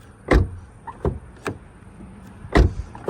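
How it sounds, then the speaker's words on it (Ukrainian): Four dull, solid thuds of a Skoda Superb 2.0 TDI sedan's doors shutting, spaced unevenly over a few seconds, close by with a quiet background between them. "слухайте звук, як закриваються двері просто."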